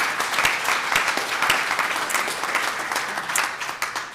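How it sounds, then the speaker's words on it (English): A room full of people at a health communication awards ceremony gives a warm, steady round of applause, with dense clapping throughout and no one speaking. "So a round of applause for everyone in the room."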